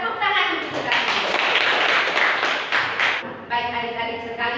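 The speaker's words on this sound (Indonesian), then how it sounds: "Tepuk tangan untuk kita semua." A class of children claps together in a classroom, a dense burst of applause lasting about three seconds, followed by a shorter second round of clapping.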